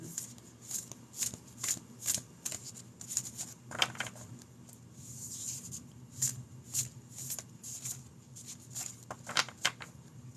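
Creativity cards being handled and shuffled, a run of quick crisp riffles and flicks repeating in bursts close up, over a low steady background hum.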